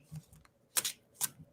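Oracle cards being shuffled by hand: a few short, crisp riffling bursts with quiet gaps between them, close and soft, with faint low murmurs in the background.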